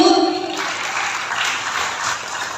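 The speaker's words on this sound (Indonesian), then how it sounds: "Aplaus Bapak Ibu." Audience at a PGRI university event breaks into applause, a broad steady wash of clapping that lasts throughout, following a brief voice at the start.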